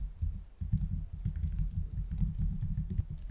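Rapid, steady keystrokes on a computer keyboard while typing code, a dense patter of clicks close by with no talk over them.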